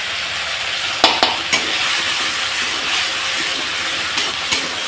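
Ginger, cumin and green chili paste sizzles steadily in hot oil for a koi fish curry, a continuous bright frying hiss broken by a few sharp spatters and stirring clicks.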